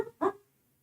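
A single short, faint dog bark or yip, a quick sound alone against quiet background.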